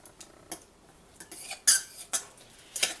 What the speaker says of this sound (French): Hop, je vais prendre une fourchette, je vais mélanger un peu.